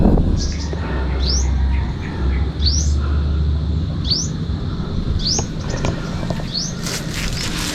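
Birds chirp in short rising calls, repeating about every second over a steady, noisy outdoor background.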